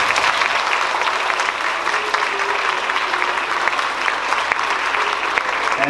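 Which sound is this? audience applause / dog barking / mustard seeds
audience applause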